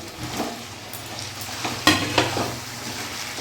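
Mutton curry with potatoes sizzles and fries in a pot while a spoon stirs it, making scraping clicks and a sharper knock partway through over a steady bed of frying.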